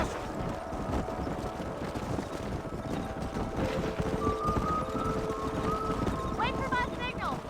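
Horses clip-clop at a trot in the Red Dead Redemption video game, a steady rapid hoofbeat under continuous rumbling noise throughout, with faint tonal sounds near the end.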